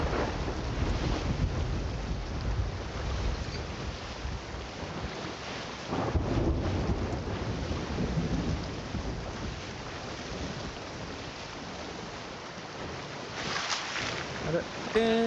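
A thunderstorm at sea in Sea of Thieves, with a dense roar of wind, waves and rumbling thunder around the ship, a louder crack near the middle and another surge near the end, and faint voices underneath.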